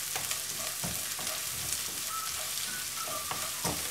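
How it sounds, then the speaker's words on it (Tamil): Chopped onion fries in a pan for rava upma, a steady close hiss and crackle with scattered sharper pops and occasional stirring scrapes, alone and even throughout. "இப்போ 1 பெரிய சைஸ் ஆனியன் கட் பண்ணி வச்சுருக்கிறத நல்லா ஆட் பண்ணிவிட்டு நல்லா ஃப்ரை பண்ணணும்"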